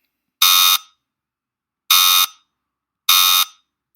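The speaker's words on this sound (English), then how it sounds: "Jeopardy buzzer sound." Three loud, harsh buzzes, each lasting under half a second, separated by pauses of about a second, like a game show wrong-answer buzzer.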